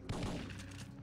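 A quick, loud burst of gunfire crackles close by in the PlayStation game Syphon Filter 3, shots blurring together into a rapid volley.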